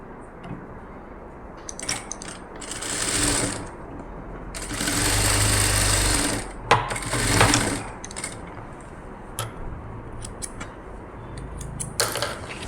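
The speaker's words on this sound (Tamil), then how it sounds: "அதை இப்போ நான் தைச்சிக்கிறேன்." A domestic sewing machine stitches the sleeve joint of a nighty in several bursts, the longest lasting about two seconds, with clicks and handling noises between runs, close and alone.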